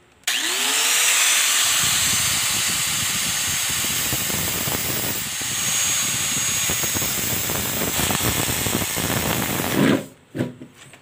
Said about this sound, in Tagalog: Gagamit nga pala ako ng grinder.